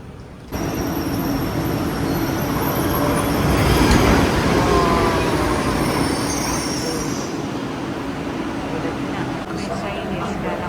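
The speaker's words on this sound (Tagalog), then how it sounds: "nandito na tayo sa platform going to KLIA Terminal 2. Platform ng tren." A rail train runs at a station platform on the line to KLIA Terminal 2 in Malaysia, a loud steady rumble with squealing wheels that builds and holds, with talk heard over it.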